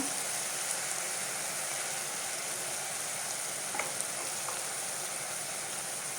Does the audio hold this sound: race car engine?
no